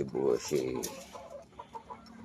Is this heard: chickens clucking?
yes